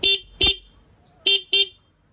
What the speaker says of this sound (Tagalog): Normal yung busina niya po.